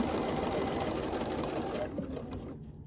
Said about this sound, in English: we're gonna sew across now